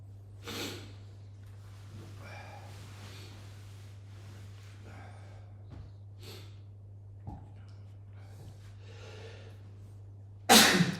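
A single loud, sharp sneeze bursts out near the end of a quiet stretch with faint breathing and a steady background hum; an earlier soft snort-like sound occurs too.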